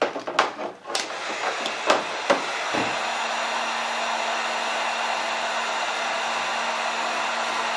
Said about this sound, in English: while I'm charging, I can plug this heat gun in.